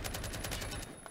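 Light machine gun fire in the Roblox game Phantom Forces: a rapid, even stream of sharp shots that runs steadily for about a second and then cuts off.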